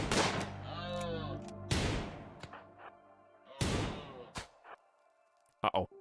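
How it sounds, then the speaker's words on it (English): Rifle gunfire in the RimWorld video game: a few sharp, loud shots spaced a couple of seconds apart, each cracking over a steady background of tonal game sounds. "Good rifle shooting."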